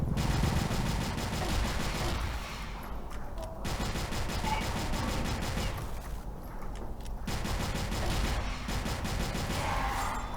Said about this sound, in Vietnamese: Ngồi đây bắn lục thôi.